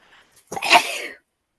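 A single sharp sneeze bursts out close by, loud and quick, followed by silence.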